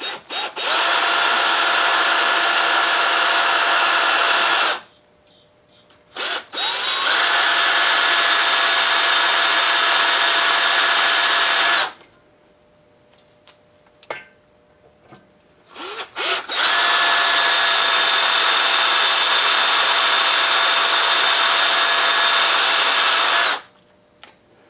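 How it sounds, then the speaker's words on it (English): A power drill fitted with a new 3/16 bit bores into an engine pin on a Maytag 72 engine under repair, running in three long loud whining bursts separated by short pauses, close and alone. "got a brand new 3/16 drill in there"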